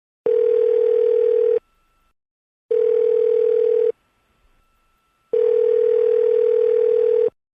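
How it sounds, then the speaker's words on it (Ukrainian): A telephone ringback tone sounds three times, each long steady buzz separated by silent pauses, clear and loud as if heard through the handset. "Телефоную до неї."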